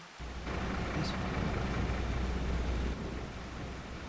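Steady, dense rain hiss fills Farming Simulator 25 over a low vehicle rumble, a broad wash of noise that stays even and fairly loud with no talk over it.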